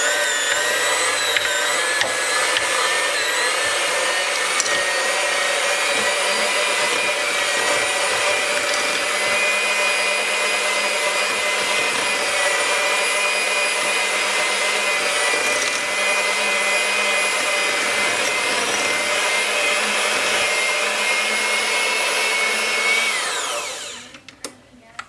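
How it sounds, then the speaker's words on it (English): Electric mixer beating cream cheese for cheesecake bars whirs in a loud, steady drone close by, running continuously before winding down and stopping at the end. "We're going to go ahead and use our mixer though."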